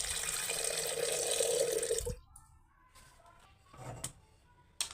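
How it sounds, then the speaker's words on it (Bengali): Water pours steadily into a pressure cooker full of amla for about two seconds, then stops, leaving a few faint drips and light clunks of the pot nearby. "এরপর জল দিয়ে দিচ্ছি।"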